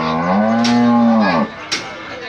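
A large cow at a busy cattle market in Pabna lets out one loud, long, close moo, with market noise lingering after it.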